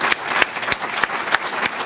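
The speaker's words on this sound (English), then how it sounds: "Another round of applause." An indoor audience of a hiring ceremony claps steadily, a dense patter of hands with a few sharper individual claps standing out.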